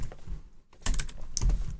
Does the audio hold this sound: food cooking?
no